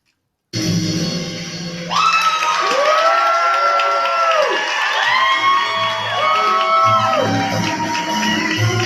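A live performance audience applauding, cheering and whooping loudly after a brief silence, with rising and falling shouts and whistles layered over dense clapping throughout.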